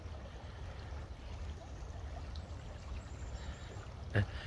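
Babylon Creek at Whitnall Park in Franklin, a small stream flowing with a steady low wash and faint trickle, quiet and continuous, with a brief knock near the end.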